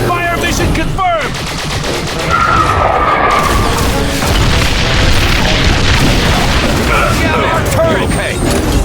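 Booming artillery explosions and rattling gunfire from the video game The Bureau: XCOM form a loud, continuous barrage of blasts and crashes, with a shouted voice briefly over the din.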